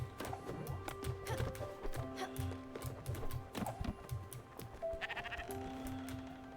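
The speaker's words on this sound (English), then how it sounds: "Oh, fluffy sheep." Video game sheep in Spiritfarer bleating several times over a musical soundtrack, accompanied by clip-clop footstep sounds, moderately quiet with no talking.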